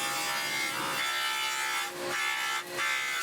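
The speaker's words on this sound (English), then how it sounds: "I figured it would be easier just to use a dado stack." A table saw fitted with a dado stack cuts dados into wood, giving a steady, loud broadband whine and rasp that swells and dips briefly as the workpiece feeds through the blade.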